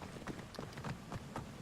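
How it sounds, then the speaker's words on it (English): Horse hooves in a desert video game setting, a quick run of soft clip-clop strikes at a steady trotting rhythm, moderately near and fairly quiet against faint background ambience. "So, called my horse over."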